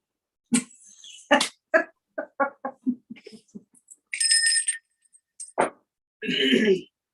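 A small bell rung as a tip signal gives one short, clear ring in the middle of a stretch of lively talking and laughter.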